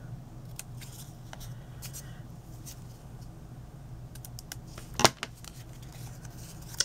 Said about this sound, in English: I'm just going to flip it around and trim off the excess.